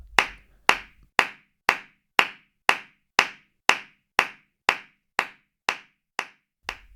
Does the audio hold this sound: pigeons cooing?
no